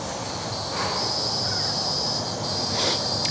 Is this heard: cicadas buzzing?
yes